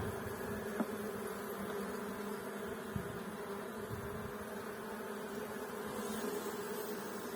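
Bees buzz steadily in a weak, queenless hive, a constant low drone close by with a few soft bumps and no voices.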